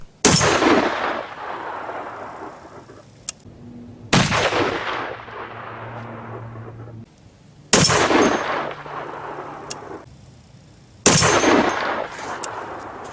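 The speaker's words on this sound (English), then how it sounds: "You guys know the Barrett 50 cal. Just for starters, listen to the sound of this gun." Four heavy, sharp shots from a Barrett .50 caliber sniper rifle, spaced a few seconds apart, each a loud crack followed by a long rolling echo that fades before the next shot.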